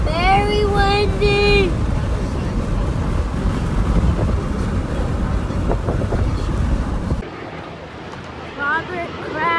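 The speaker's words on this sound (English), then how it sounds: "Very windy!" Strong wind buffeting the microphone at a Patriots football stadium, a loud steady rush throughout with a brief tonal sound at the start and a drop toward the end.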